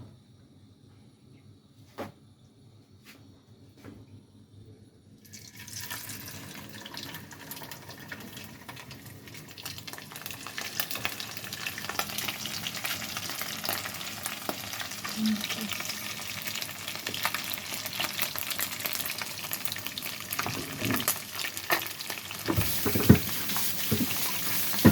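Vegetables sizzling in hot cooking oil in a home kitchen, starting quiet then swelling into steady, close frying crackle with occasional clatter of utensils.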